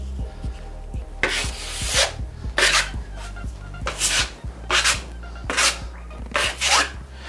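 A putty knife spreads a first coat of drywall joint compound over a wall patch, giving repeated rasping scraping strokes in an uneven rhythm, close and fairly loud, with soft knocks between passes and no voices.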